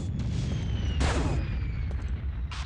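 Gunfire in Quake 2 RTX, a few sharp bursts over a constant low rumble, the loudest shot near the middle and another at the end.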